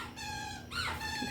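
A squeaky toy squeals in short, high-pitched bursts, close by, with a faint whine of a dog in the background.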